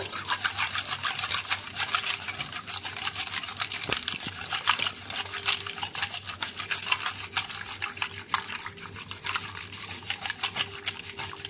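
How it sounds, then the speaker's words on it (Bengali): Yogurt lassi with sugar being whisked in a bowl, a steady fast scraping and rattling churn that runs continuously at moderate level with no talk. "এবারে ভালো করে আরেকবার ফেটিয়ে নেব।"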